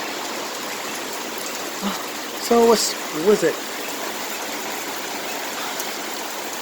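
Rain falls in Puerto Rico as a steady, even hiss that fills the whole stretch, with a person briefly speaking over it partway through.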